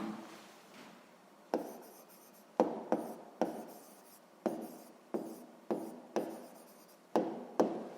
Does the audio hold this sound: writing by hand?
yes